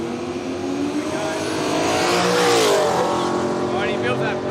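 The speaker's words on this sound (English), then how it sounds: "he builds that boost up and just absolutely smokes the tyres off the line" A boosted drag racing car revs up and launches off the line at Willowbank Raceway, its loud engine roar rising and sweeping past, with a commentator talking over it.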